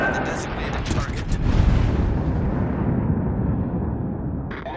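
The main guns of the battleship USS Colorado fire in World of Warships on console, a deep rolling boom with sharp mechanical clanks at the start, loud and close, then a long rumbling decay, with a voice speaking.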